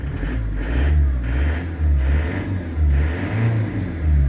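A 2005 Ford Transit van with a 2.0 diesel engine runs steadily, its low rumbling note rising and falling in regular pulses about once a second, close and fairly loud, with no talk.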